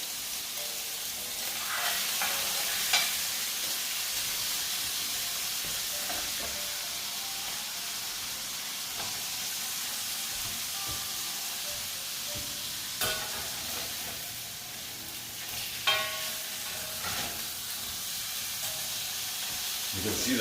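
Garlic and turmeric sizzling in a hot cast iron pan, a steady broad hiss of frying that carries on throughout, with faint stirring clicks and brief quiet talk.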